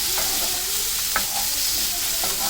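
Chopped chayote sautés in a pan for a tangy chutney, a steady loud sizzle with occasional scraping stirs of the spoon against the pan.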